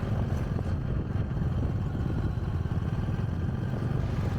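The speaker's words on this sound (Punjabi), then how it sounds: "ਮੋਟਰਸਾਈਕਲ ਤੇਜ਼ ਨਹੀਂ ਚੱਲ ਰਿਹਾ ਹੈਗਾ" A motorcycle engine hums steadily at close range while riding at moderate speed on a road from Jaito to Bathinda, Punjab, a continuous low rumble with road noise and no pauses.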